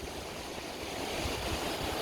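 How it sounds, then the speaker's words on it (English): Floodwater rushing across both flooded lanes of the N2 road during an April storm in KwaZulu-Natal, a steady broadband wash of flowing water with wind noise, continuous and fairly loud throughout. "Both lanes, north and south, flooded. Water is flowing like a canal."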